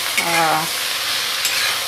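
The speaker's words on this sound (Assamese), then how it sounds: "মিডিয়াম ফ্লেমত ভাজিম" Close, steady sizzle of bata fish frying in a pan over medium flame, with a short tonal squeak early on and a faint clink later.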